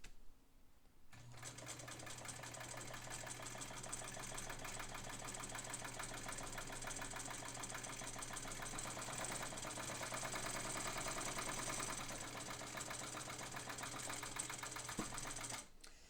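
A home sewing machine stitches through four layers of fabric with a shortened stitch, running as a steady close mechanical whir at a medium-slow to slightly faster pace.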